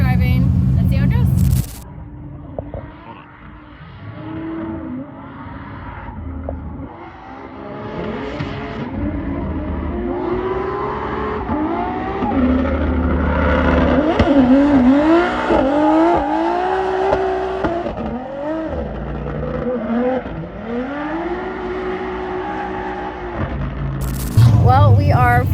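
A Formula Drift car runs on track, its engine note rising and falling through revs while a voice talks over much of it, motor loud and close throughout.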